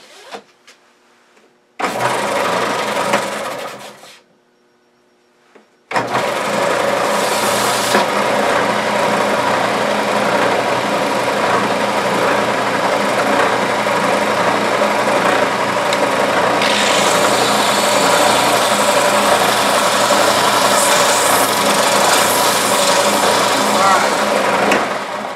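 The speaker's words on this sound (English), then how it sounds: "Now I'm going to switch to a finer belt and take a couple more passes." Belt sander running steadily against a wooden salt shaker turning on a lathe, a loud continuous abrasive whir after a brief start-up and pause, with a brighter rubbing hiss building later on.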